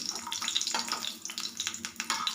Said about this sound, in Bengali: বড়িটা আমি হালকা করে ভাজবো